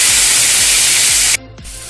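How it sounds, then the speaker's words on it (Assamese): Onions hit hot oil in a wok for a fish curry, giving a loud, steady spraying sizzle that cuts off sharply after about a second and then returns more softly. "পিয়াজখিনি গোল্ডেন ব্ৰাউন হোৱালৈকে মই অকমান ভাজি দিম"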